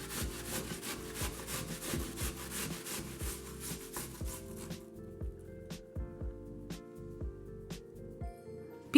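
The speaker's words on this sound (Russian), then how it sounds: "Тыкву и яблоки натираем на мелкой терке." Pumpkin and apples rubbed on a fine kitchen grater, close rhythmic rasping strokes at a quick steady pace for about five seconds, then sparser scrapes and a few sharp taps.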